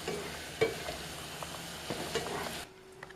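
Onion and garlic for stuffed mushrooms cook in a pan with a soft, steady sizzle, punctuated by a few light utensil taps and stirs before it quiets near the end.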